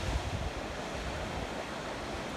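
Sea waves wash ashore at Tokomaru Bay on New Zealand's East Cape: a steady, close roar of surf mixed with gusty wind buffeting the microphone, with no voices.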